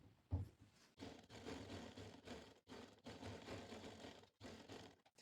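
A sewing machine stitching a V-neck collar on a kameez, a quiet rapid whirring run in several short bursts separated by brief pauses.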